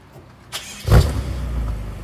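A BMW M6 engine cranks and catches, firing into a loud, close idle that settles into a steady rumble for the rest of the moment.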